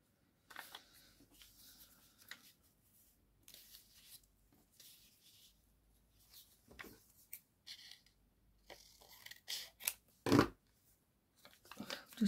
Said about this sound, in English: I'm going to just trim this up.